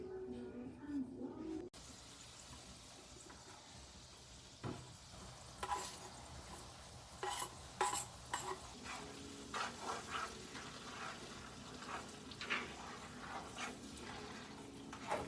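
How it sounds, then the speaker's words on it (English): Butter sizzling in a pan while low-sodium sweet chili sauce is being cooked, a steady crackle with scattered sharp pops and stirring clatter running throughout. "the butter is cooking"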